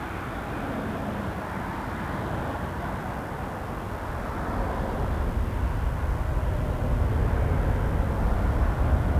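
Boeing 737 Max 8 at Toronto Pearson Airport, a broad roaring jet rumble heard from a distance that grows steadily louder, with no voices.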